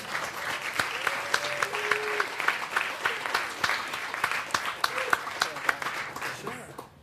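An audience at a Valentine's event applauds Reverend Aaron Swinson with steady, fairly distant clapping, a few voices calling out beneath it before the applause tapers off.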